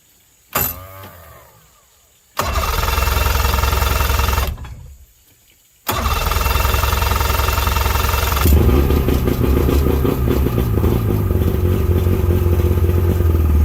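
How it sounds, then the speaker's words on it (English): A 1969 vehicle's engine cranks with a loud, steady mechanical churn in long bursts, separated by silent gaps, while the fuel pump runs and the engine tries to catch. "fuel pump's back on. Let's see what happens when we try and make sure it works"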